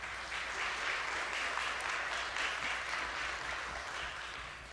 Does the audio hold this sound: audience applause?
yes